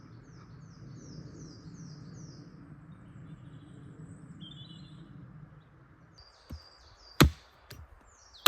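Small birds chirp in woodland, with quick high twittering phrases over a low rustle of someone handling wood, followed by a few sharp knocks and snaps near the end.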